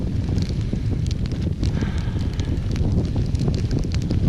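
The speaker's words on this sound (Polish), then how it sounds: "Wiatr bardzo zimny" Cold wind blows hard across Song-Köl lake in Kyrgyzstan, a loud, steady roar buffeting the microphone without letup and with no voices.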